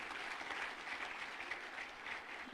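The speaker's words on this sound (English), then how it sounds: "Let's keep the applause going." An audience at a youth entrepreneurship event claps steadily in a continuous round of applause, faint and somewhat distant, with no voices standing out.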